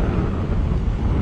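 A strong typhoon wind roars and buffets the microphone, a loud, constant rumbling rush with no break and no voices.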